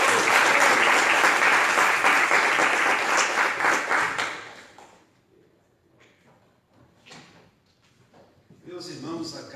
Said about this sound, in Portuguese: Você pode aplaudir para dentro do seu.